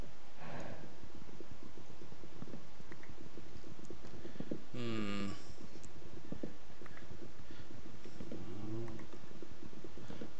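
Cows mooing in the Age of Engineering video game, two separate low drawn-out moos rising over a steady background hum, no speech.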